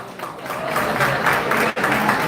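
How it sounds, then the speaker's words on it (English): An audience applauds to welcome Dr. Saket Bhatia at a live event, a loud, steady burst of many hands clapping together that dips briefly and then carries on. "Let's give him a big round of applause to Dr. Saket Bhatia"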